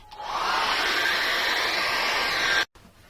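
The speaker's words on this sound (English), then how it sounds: "So I'm going to just dry that off with a hairdryer." A hairdryer roars steadily at close range for a couple of seconds, then cuts off abruptly, leaving near silence.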